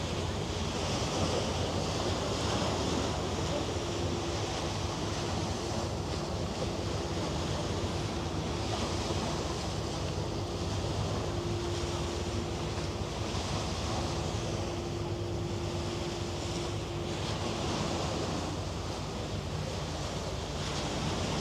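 Waves washing in Hamburg harbour among container ships, a steady broadband wash with wind buffeting the microphone, continuous and fairly loud for the whole stretch, with a faint low tonal hum from a vessel underneath.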